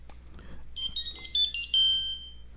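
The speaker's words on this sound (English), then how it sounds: "That's my Tony Soprano ringtone." A Tony Soprano phone ringtone plays alone in a short electronic melody of bright, clipped tones, loud and close for about two seconds.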